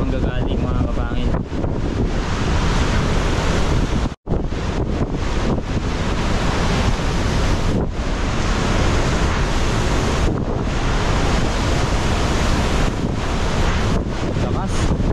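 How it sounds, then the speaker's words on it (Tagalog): Typhoon Marce's strong wind roars hard and nonstop into the microphone for about fifteen seconds, buffeting it with gusts, broken only by one brief dropout. "grabe lakas ng hangin"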